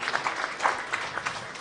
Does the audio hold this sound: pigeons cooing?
no